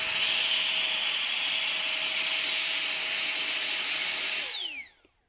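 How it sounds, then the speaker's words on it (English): A Flextailgear Tiny Pump inflates a sleeping pad with a steady, high-pitched electric whine, loud and close, holding constant for several seconds before spinning down as it stops. "I just hold the pump over the top of it again. And I just top it up."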